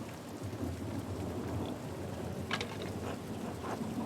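Steady rain pours down during a thunderstorm in the medieval-village game Pentiment, a constant dense hiss with low rolling thunder beneath and a few sharper crackles, no voices.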